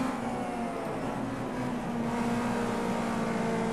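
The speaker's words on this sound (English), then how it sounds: "I know I'm bouncing off the red line." A race car engine in Project CARS 2 on the Bathurst circuit holds fourth gear while bouncing off the rev limiter, a loud, sustained high-pitched drone with a slight buzzing flutter throughout.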